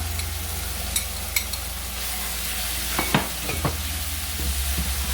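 A spoon stirs saltfish into sautéed vegetables in a pan. A soft continuous sizzle runs underneath, broken by several scraping, knocking stirs near the middle, close and fairly quiet with no talk.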